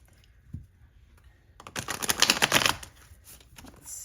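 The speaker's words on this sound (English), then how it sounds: "I feel like it wants me to shuffle one more time." Tarot cards being shuffled in a quick riffle lasting about a second, close and fairly quiet, after a faint tap and near silence.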